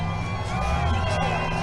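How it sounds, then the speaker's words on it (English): Crowd cheering and whooping at a presidential campaign rally, a dense, continuous roar of many voices with scattered shouts. "they're cheering, showing their excitement."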